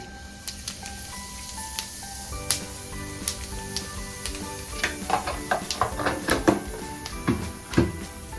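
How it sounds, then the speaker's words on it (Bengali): Cumin seeds crackle and pop in hot oil left over from frying potatoes for fish egg bhurji, with close, sharp sizzling bursts that build in the second half over steady background music. "এই তেলেই ফোড়ন দিয়ে দেবো জিরে,"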